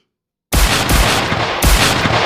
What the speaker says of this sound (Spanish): sonaron, uno seguido de otro, 6 disparos de revólver.